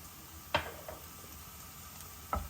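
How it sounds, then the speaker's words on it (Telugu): Chopped garlic frying in hot oil for egg fried rice gives a low, steady sizzle, broken by two sharp scrapes of a spoon or spatula in the pan. "ఇది నూనె వేడవుతుంది కదా మన ముందు మన వెల్లుల్లిపాయలు వేసేద్దాం"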